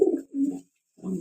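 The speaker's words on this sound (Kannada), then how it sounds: "ನೋಡಿದ್ರಲ್ಲ ಪಾರಿವಾಳ ಮರಿಗಳು ಎಷ್ಟು ಚೆನ್ನಾಗಿದೆ ಅಂತ" Young pigeon chicks coo softly up close, three low, throaty bursts separated by short pauses, with nothing else audible around them.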